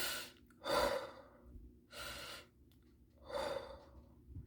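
Three deep, audible breaths in a slow rhythm, each a loud rushing inhale-exhale separated by short pauses, taken by someone trying to calm down, close and alone without talk.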